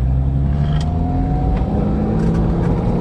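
A car with an AW-4 automatic transmission rolls along in first gear with little engine braking. The engine gives a loud, steady, low drone with a faint whine and no revving peaks, and nobody speaks.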